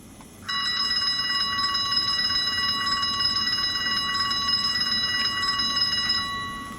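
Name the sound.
model locomotive startup warning bell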